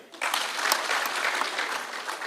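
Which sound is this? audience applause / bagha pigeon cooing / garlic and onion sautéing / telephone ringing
audience applause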